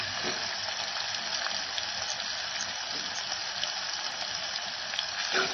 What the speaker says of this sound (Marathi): टोमॅटो आपल्याला ग्रेव्ही छान होण्यासाठी मदत करते, त्यामुळे आता छान मऊ होईपर्यंत परतून घ्यायचं